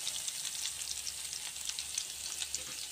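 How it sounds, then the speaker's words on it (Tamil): Garlic cloves frying lightly in oil for a village-style prawn gravy, a soft, even sizzle with fine crackling pops throughout, fairly quiet and close, no talking. "லைட்டாக எண்ணெயில் வந்து அந்த பூண்டு பல் வந்து லைட்டாக வதங்கட்டும்."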